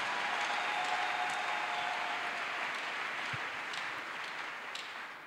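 A church congregation applauds with dense, sustained clapping that carries through a large room and tapers slightly near the end.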